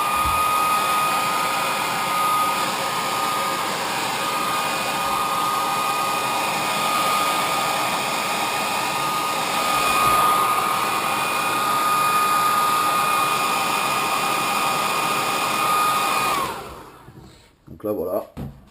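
A hair dryer blows steadily to dry freshly airbrushed fire tiger paint on a jerkbait fishing lure. Its loud, close whir holds even for about sixteen seconds, then cuts off, leaving a few faint handling noises.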